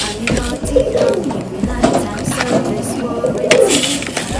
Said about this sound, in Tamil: இப்போ அந்த புறாக்கு தீனி போடலாம் ஃப்ரெண்ட்ஸ் இப்போ பார்த்தீங்கன்னா புறாக்கு தீனி போடலாம்